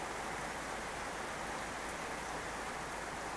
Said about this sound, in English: The rain is like so loud here.